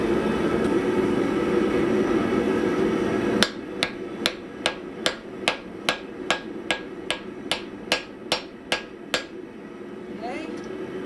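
A hammer striking wrought iron to refine a forge weld, about fifteen evenly spaced ringing blows in a steady rhythm, following a steady roaring background that drops off when the hammering starts.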